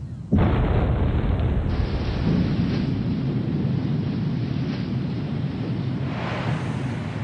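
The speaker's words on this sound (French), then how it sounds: "on entendit un grondement sourd, un boum étouffé" A dam is blasted at the Panama Canal: a sudden dull, rumbling explosion bursts in close and loud, then rolls on as a sustained low roar that slowly eases without fading away.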